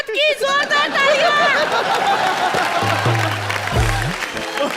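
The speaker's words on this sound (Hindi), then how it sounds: "जोरदार तालियां" A studio audience on a Hindi comedy show claps and chatters, a soft wash of applause following a brief voice, with murmuring crowd noise throughout.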